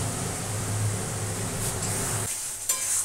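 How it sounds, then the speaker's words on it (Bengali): Masala paste sizzles while being stir-fried in a pan, a steady frying hiss with scraping stirs that drops away near the end, followed by a faint clink. "দেখো মশলাটা আমার ভালো করে কষানো হয়ে গেছে।"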